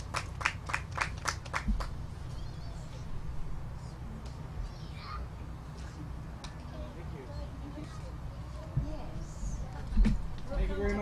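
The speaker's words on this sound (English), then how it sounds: "Let's give her another round of applause." Audience applause for a poet at a live poetry stage event: a brief burst of sharp, rapid claps at the start, then a murmuring room with scattered claps under continuing talk.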